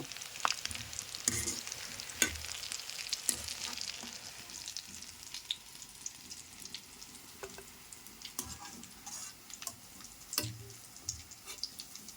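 Egg and gram flour lollipops fry in hot oil, giving a soft, steady sizzle broken by sharp ticks and the occasional clink of stirring, heard close with no voices.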